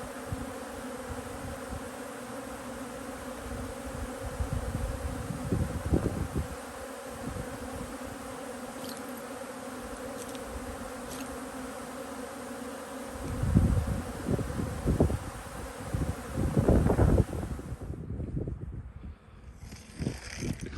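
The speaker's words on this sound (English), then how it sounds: "You can see the bees over there, enjoying themselves." Honey bees swarm and buzz around hives set out on heather moorland, a steady dense hum with louder close passes of individual bees near the end, and no voices.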